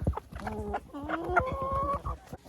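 Backyard hens at a dacha cluck and murmur close by while pecking at food scraps, with a run of rising, drawn-out clucks in the middle and scattered softer notes, with no talk.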